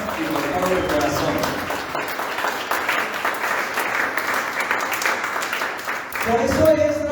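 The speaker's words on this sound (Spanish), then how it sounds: "si vas a aplaudirle al Señor, hazlo con todas tus fuerzas y con todo tu corazón" A church congregation bursts into sustained, loud applause that fills several seconds before a voice returns at the end.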